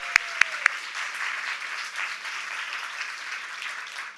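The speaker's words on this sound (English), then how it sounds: "Could we give these women a round of applause?" Steady, even applause fills the room at a women's foundation grant awards celebration, with a few sharp, close claps standing out at the start before the crowd settles into a continuous wash.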